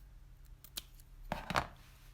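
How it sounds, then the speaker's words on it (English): Scissors trimming paper for a tag flip book craft, a few quick close snips with a brief pause between them, faint and alone without talk. "So we'll trim that."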